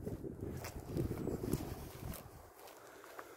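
Wind blowing across an open golf course, a low rumbling buffet on the microphone that swells and eases over a few seconds, fairly faint, with no talking.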